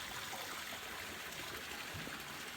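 Murky water runs off coffee mixed with broken-down mucilage at a coffee wet mill in Rwanda, a steady, fairly close rushing stream that flows on without pause.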